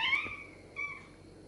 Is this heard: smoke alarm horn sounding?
no